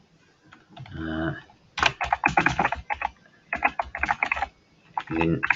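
Rapid keystrokes on a computer keyboard in several bursts while a message is written, close and distinct, with short bouts of a muffled voice or hum between them.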